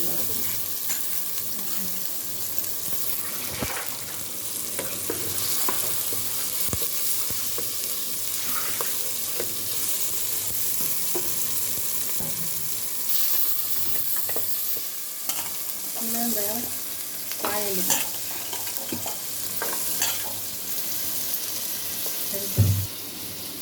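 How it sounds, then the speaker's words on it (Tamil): Eggplant being fried and stirred in a pan for a fish curry, a steady close sizzle broken by scraping spoon strokes and occasional clinks, with a brief word spoken near the end. "கத்திரிக்காய் போட்டு அது உடக்க வதக்கிங்க"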